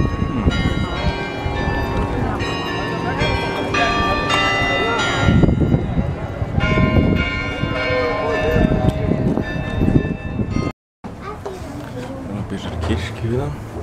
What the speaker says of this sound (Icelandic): Þessi bjalla er búin að vera í gangi núna í góða mínútu.